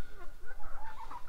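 A young cockerel, an immature male chicken on a farm, gives soft, rapid clucking calls to the hens, a short run of close, quiet notes.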